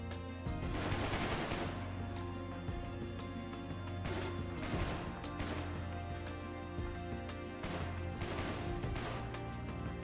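Gunfire from a shootout in the RimWorld video game rattles in continuous bursts and repeated shots over a dense, loud combat din, with no talk.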